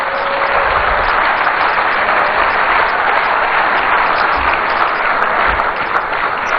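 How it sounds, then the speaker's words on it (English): Sustained, loud applause from an audience greeting guests at a political address in Accra, dense clapping running steadily without a break. "I think we need to give them a bigger round of applause."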